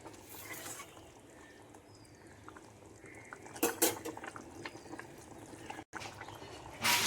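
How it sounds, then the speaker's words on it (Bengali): A utensil stirs boiled brinjal, potato and tomato into fried spices in a pan, with soft scraping and wet stirring that build to sharper metal clinks and knocks later on. "সেদ্ধ করা সবজিগুলো ভাজা মশলার মধ্যে দিয়ে দিয়েছি। এখন একসঙ্গে মিশিয়ে নিচ্ছি।"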